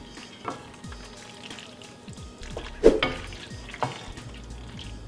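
Cooked pasta tossed and stirred in a pan, giving a soft, low-level sizzle with a few scraping clinks and light clatters as the food is moved around. Nobody speaks.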